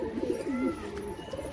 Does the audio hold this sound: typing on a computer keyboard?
no